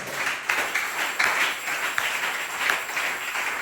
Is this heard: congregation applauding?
yes